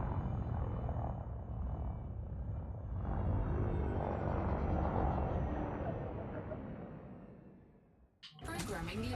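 Limpet drones launch from a ship in the space game Elite Dangerous, a steady engine-like whoosh and rumble that holds for several seconds before a sharp burst near the end.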